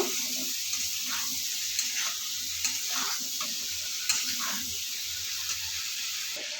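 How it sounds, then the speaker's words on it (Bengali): Figs, prawns and potatoes sautéing with spices in a pan: a low, even sizzle under repeated scraping stirring strokes, fairly close and moderately quiet, with no voices. "দু থেকে তিন মিনিট ভালোভাবে কষিয়ে নিয়েছি"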